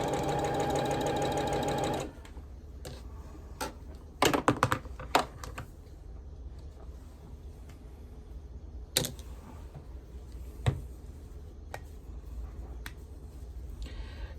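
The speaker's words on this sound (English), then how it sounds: "you'll see me sewing blocks on the side for my side quilt" A sewing machine stitches quilt blocks made from 1.5 inch squares for an Irish chain quilt, running in a steady buzzing burst for about two seconds, then falling quiet apart from scattered clicks and taps.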